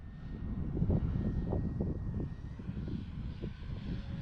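An E-Flite T-28 1.2m RC plane passes low with a steady electric motor drone and a faint whine, the buzz staying strong and near throughout.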